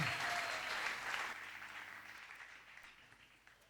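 An audience at a church worship session applauds and acclaims, a dense wash of clapping that starts strong and slowly fades over several seconds.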